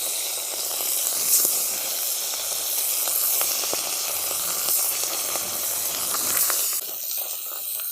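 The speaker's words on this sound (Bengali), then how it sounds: "এরপর বাকি মাছগুলোকেও ভেজে নিচ্ছি।" Pabda fish sizzling and spitting in hot mustard oil in a kadai, a steady close crackling hiss with scattered sharp pops that softens slightly near the end.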